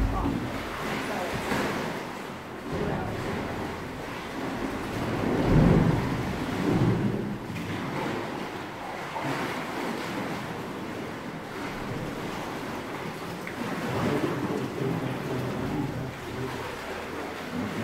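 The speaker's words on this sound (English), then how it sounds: "Big wave must be coming in or something" Waves surge and crash inside a sea cave at high tide, a continuous deep roar with heavy booming swells that rise and fall, loud and close, with wind buffeting the microphone.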